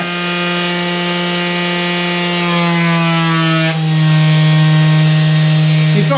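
A 300W spindle motor on a 3018 CNC machine whines steadily at 16,000 RPM, a loud, close, tonal hum with its fan noise and a slight shift in pitch partway through.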